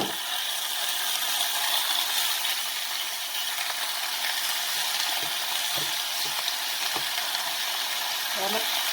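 Veal browns in hot oil in a small casserole, giving a steady loud sizzle with a few clacks of a utensil against the pot.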